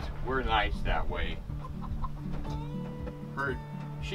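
Chickens cluck and murmur nearby in short, overlapping calls, with a faint hum in the background.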